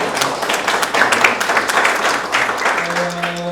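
Attendees at a sports forum break into applause, a lively, continuous clapping with scattered sharp claps standing out against the room.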